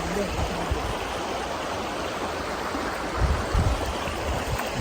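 River water flows over rocks in the Alberta Rocky Mountains, a steady broadband rushing close by that continues without a break, with a few low thumps.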